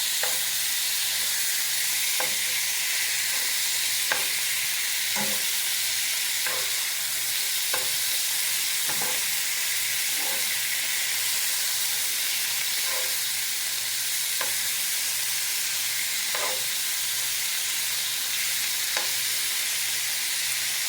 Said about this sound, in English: Now this being stir fry, you gotta stir it while it fries.